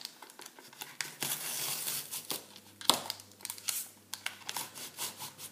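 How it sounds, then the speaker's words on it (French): A utility knife guided along a ruler trims cardboard edges, with soft crinkly scraping strokes and short pauses, followed by a sharp click and a few quieter rustling passes, close and low in level. "avec notre règle et notre cutter, on va couper les bords pour qu'ils soient propres et tous de la même longueur"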